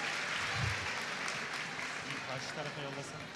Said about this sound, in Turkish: Bizlere alkışlarla Hande Doğan Demir uğurluyoruz kendisini.